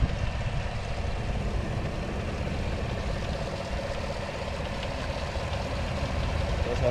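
A 2020 Chevrolet Tahoe LT 4x4 with a 5.3 liter V8 runs steadily at idle under an open hood, a constant low rumble with broadband hiss and no talk over it.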